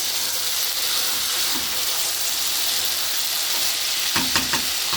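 Vegetable stir fry sizzles steadily in a hot pan on a flame, a continuous bright frying hiss with a few clacks of the spatula stirring near the end.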